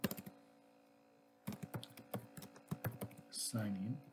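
Rapid keystrokes on a computer keyboard while code is entered in Android Studio, a dense run of clicks after a quiet start, with a short burst of other sound near the end.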